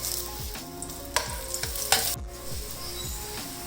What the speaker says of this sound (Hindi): हल्की आग पे मैं इसको फ्राई कर रही हूँ।